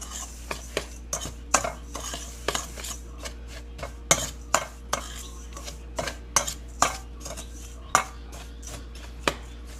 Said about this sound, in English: I'm just going to mix that together first